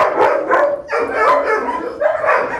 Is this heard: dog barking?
yes